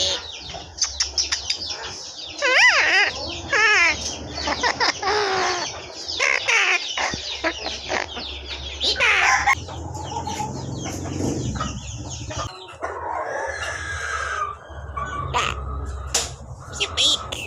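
A talking pet bird chatters and mimics human words in a rapid, busy stream of squawks, clucks and whistled syllables, loud and close throughout.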